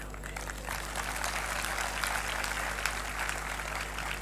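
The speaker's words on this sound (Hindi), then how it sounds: "ताली मत बजाइए" A seated audience applauding during a speech, dense and steady clapping from many hands that fills the room evenly from start to finish.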